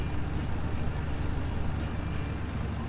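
A tractor engine in a farming video game set in Thuringia drones with a steady low rumble, moderately loud and continuous, with faint hissy mechanical noise over it.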